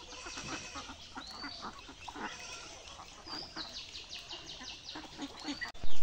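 Ducks and chickens on a farm give scattered quacks and clucks at close to moderate range, irregular calls over faint background noise, ending in a brief loud bump.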